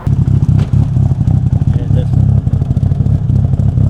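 A built 2.4-liter Mitsubishi Evo 8 engine runs close by with a choppy, lumpy idle, pulsing rhythmically and loudly, while people talk over it.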